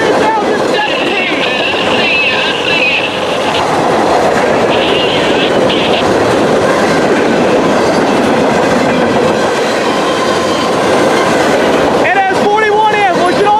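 Norfolk Southern freight train NS 41N rumbles past up close, a loud, steady roar of wheels and cars with rhythmic clatter, brief squeals near the end and faint voices under it.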